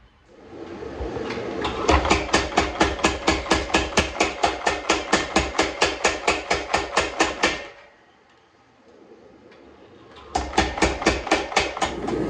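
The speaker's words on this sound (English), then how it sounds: "just take a couple of heats under the power hammer" Rapid, heavy rhythmic pounding of a power hammer on a hot Damascus steel billet for a kitchen knife, a long steady run of evenly spaced blows, a brief pause, then another burst.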